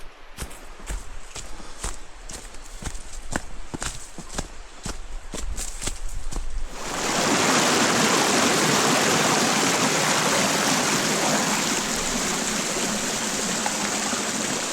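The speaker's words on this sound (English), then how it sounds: "you can see here's the creek right here" A creek in Pisgah National Forest rushes steadily and loudly, close by, after several seconds of crunching footsteps on a trail; the water noise then fills the rest alone.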